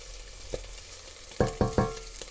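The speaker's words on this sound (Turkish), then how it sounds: "Ve soğanımı da kavuruyorum böyle" Onions sautéing in a pan, a faint low sizzle with a few sharp scraping stirs in quick succession near the end, close and quiet, with no talk.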